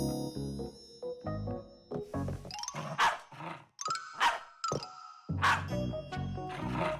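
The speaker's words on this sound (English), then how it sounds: "You know how Chusaka barks whenever she sees a Fixie around." A cartoon dog barks in a children's animated show, several sharp barks and yelps at close range in an irregular burst, with background music and other cartoon sounds around them.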